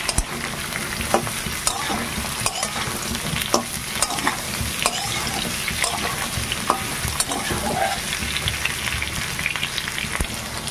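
Pointed gourd and potato pieces frying in oil in a pan, a continuous close sizzle with frequent stirring scrapes and small crackles throughout.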